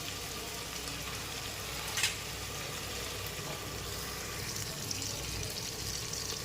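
Tomatoes softening in a pan or pressure cooker for a quick chicken biryani, a quiet, even simmering sizzle throughout with one brief louder burst near the start.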